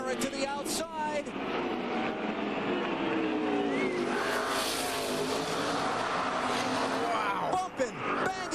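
NASCAR Winston Cup stock cars racing on the final lap at Martinsville Speedway in the 2001 Old Dominion 500, a loud continuous engine roar with crowd noise, while a commentator talks over it throughout.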